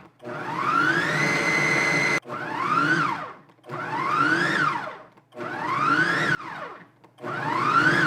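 A blender pulses a raw chicken nugget mixture in five loud bursts of roughly one to two seconds, each motor whine rising in pitch as it spins up, separated by brief near-silent pauses.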